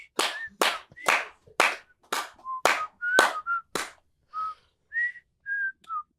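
A whistled melody in the style of the Andy Griffith Show theme opens with loud sharp claps or slaps under clear whistled notes, then continues as separate whistled tones alone.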